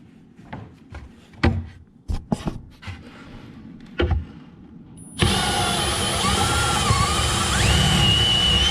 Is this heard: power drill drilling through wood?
yes